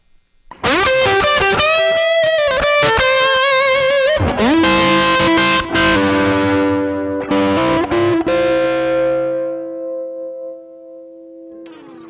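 Heavily distorted electric guitar lick, with fast picked notes and slides building to sustained bends, then a long ringing final note that decays with some echo, played alone and loud.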